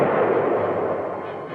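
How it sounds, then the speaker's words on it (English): Enemy tank guns and anti-tank fire in wartime combat against M60 Patton tanks come through as a dense, continuous roar of rumbling blasts and crackle, loud and steady with no voices. "the tanks meet heavy fire from enemy tanks"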